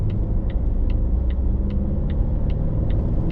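A supercharged 2025 Volvo XC90 seven-seater accelerates up an uphill highway on-ramp, giving a loud, steady engine and road rumble with a faint, regular ticking above it.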